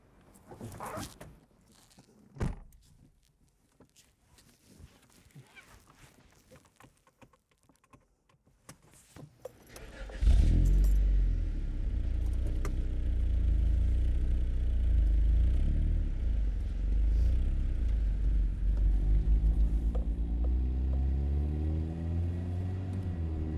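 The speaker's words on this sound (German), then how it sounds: "deshalb setzen wir uns einfach mal rein und fahren los" A Honda Prelude BA4 with four-wheel steering: door and seat handling noises and clicks as someone gets in, then the engine starts about halfway through and a steady, close rumble continues with rising revs as the car pulls away.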